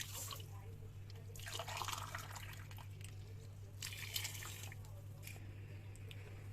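Hot water from a kettle poured for a concentrated hibiscus drink, a steady liquid stream with splashing bursts, fairly close, over a constant low electrical hum.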